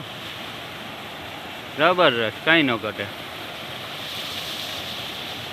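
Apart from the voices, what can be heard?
waterfall, water falling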